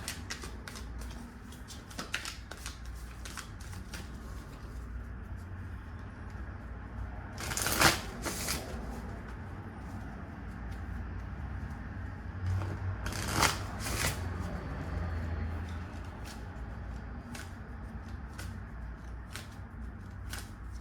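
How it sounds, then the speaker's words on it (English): A deck of tarot cards is shuffled close by in a quiet room, a soft continuous riffling with two brief louder flurries. "let me get a clarifier for the Ace of Swords, please. And I'm using the same deck."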